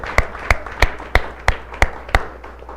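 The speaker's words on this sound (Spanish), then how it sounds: "Así que démosle un aplauso a Jesús, porque Él vuelve," A church congregation claps in a slow, evenly spaced rhythm, seven or eight sharp, loud beats about a third of a second apart with little else between them.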